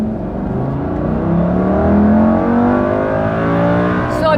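Lamborghini Gallardo Superleggera engine heard from inside the car, a loud steady roar with rising harmonic sweeps as it accelerates through the gears.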